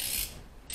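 A ratchet wrench clicks briefly up close as a spark plug is tightened down to 15 foot-pounds on an engine with new plugs and wires, a short mechanical ratcheting burst.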